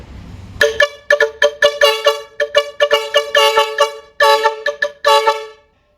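A loud jeepney horn honking in a rapid rhythmic series of short blasts, tooting on and off in quick bursts with brief pauses.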